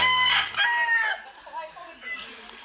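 A rooster in a chicken coop holding hens and two roosters crows loudly up close, followed by softer clucks and calls from the flock.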